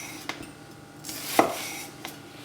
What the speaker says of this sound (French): On va l'émincer en rond. Alors un oignon ça fait beaucoup